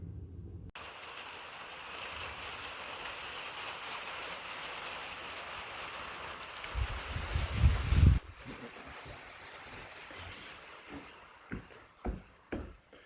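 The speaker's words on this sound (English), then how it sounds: "Of course, when you're doing something, it's gonna start raining." Steady rain falling outdoors beside a mobile home where skirting is being installed, a dense even hiss of drops on surfaces, with a few louder thumps and taps near the end.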